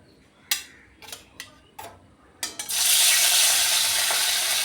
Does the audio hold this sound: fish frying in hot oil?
yes